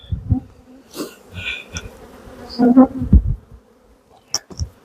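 Honey bees buzzing around a tall stacked hive, several bees passing close by in uneven bursts over a quiet outdoor background, with brief faint clicks and no talking.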